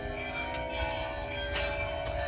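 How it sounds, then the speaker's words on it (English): Church bells ringing from two churches in a Sicilian town, sustained overlapping peals with steady tolling strikes, heard clearly and alone. "can you hear the bells? I'm going to move out here so you can hear the bells for just a second"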